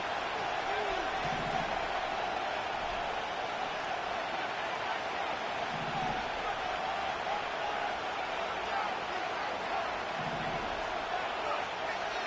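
A football stadium crowd at fever pitch gives off a dense, continuous roar that holds steady and loud throughout, with brief muffled thumps now and then and no distinct voices rising above it.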